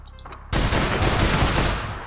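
Dense, sustained burst of gunfire from the online shooter APB Reloaded, erupting suddenly after a quieter stretch and running loud and continuous as overlapping shots tail off slightly at the end.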